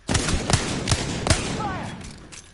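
Gunfire on a range during coaching drills: four sharp, evenly spaced shots at close range, followed by a brief whistle-like tone and fading echo.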